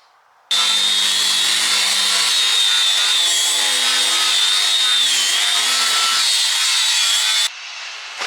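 Grinder or sander smoothing off steel angle during crash-damage repair on a tri-axle trailer: one loud, continuous abrasive whine holds steady for about seven seconds, then cuts off.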